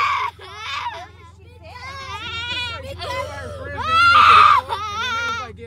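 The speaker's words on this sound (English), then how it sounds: "I hear screaming, nothing but frantic screaming of children." Children screaming frantically and crying inside a school van as it pulls up hours late, shrill overlapping high-pitched voices rising and falling continuously, loud and close throughout.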